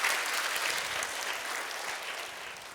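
A church congregation applauds at a Sunday service to welcome a newly baptized girl, with steady clapping from many hands in a room that fades slightly toward the end.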